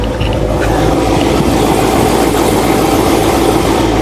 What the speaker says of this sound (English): He has the Corsa Extreme exhaust, so as you can hear, it's pretty loud and idle.